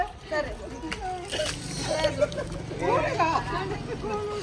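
Children play and splash in water with cousins at a post-wedding family gathering, light splashes and sloshing mixed with nearby children's voices and busy chatter throughout.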